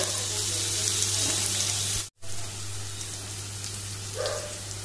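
Chopped onion and a little minced garlic fry in a pan with a steady, close, broadband sizzle that runs throughout, broken by one brief silent cut midway.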